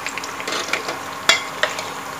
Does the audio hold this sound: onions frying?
yes